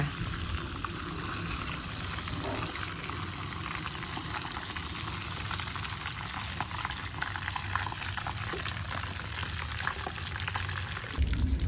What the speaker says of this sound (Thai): ทอดปลามาสักพักหนึ่งแล้ว